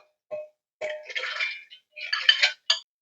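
A large mixer grinder jar is handled, giving a few short hard clinks and knocks of its lid and body, close and separated by brief silences.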